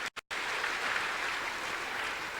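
Congregation applause at a church service, steady dense clapping after a brief broken start, filling the space at even loudness with no voices on top.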